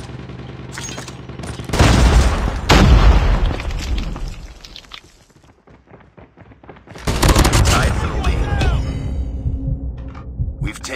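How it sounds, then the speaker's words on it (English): A grenade detonates in Call of Duty ranked play, a loud deep blast with a rumbling tail, followed a few seconds later by a second sustained burst of explosive noise amid gunfire-like crackle. "Grenade out!"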